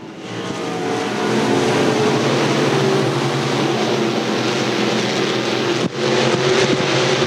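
Race cars roaring around the dirt track at Thunder Hill during a heat race, a dense continuous engine howl that stays loud and steady with a brief dip and surge near the end, no voices.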